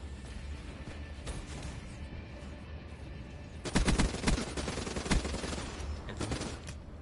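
Gunfire in Black Ops 3 begins as a faint distant clatter, then a louder cluster of rapid burst shots arrives close by and trails off, with no talking over it.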